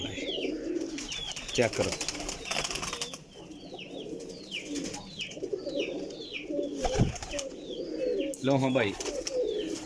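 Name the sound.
golden pigeon cooing and flapping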